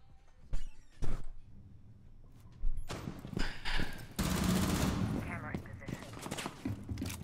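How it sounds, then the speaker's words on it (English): Gunfire in Rainbow Six Siege, shot through a garage wall: scattered sharp reports first, then a dense sustained burst of rapid fire, moderately loud, with muffled voices mixed in. "I shot him through the garage wall"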